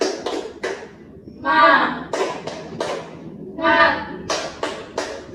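Children clap a rhythmic spirit cheer (tepuk semangat) in a classroom, bursts of quick claps alternating with chanted voices in a repeating pattern.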